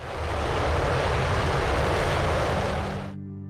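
NASA RS-25 rocket engine test firing at Stennis Space Center, a loud, steady broadband roar that holds for about three seconds before cutting off abruptly.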